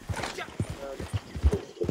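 Steady clip-clop of horse hooves in the video game Red Dead Redemption 2, a regular rhythm of close, dull thuds with a brief whinny, while someone talks over it.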